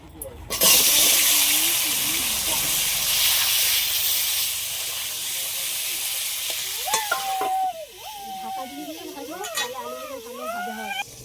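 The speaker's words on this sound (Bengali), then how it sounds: "কড়াইয়ের তেলও গরম হয়ে গেছে আলুগুলো সব ভেজে নেব" Potatoes seasoned with salt and turmeric fry in hot oil in a wok, giving a loud, steady sizzle for most of the clip before a voice starts talking over the quieter frying near the end.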